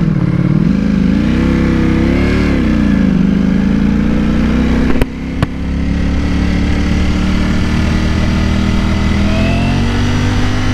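Ducati V4S motorcycle with a quick shifter, heard from the rider's position as the engine climbs steadily in pitch, cuts briefly on a quick upshift, then pulls on at a loud, close, sustained drone with wind noise.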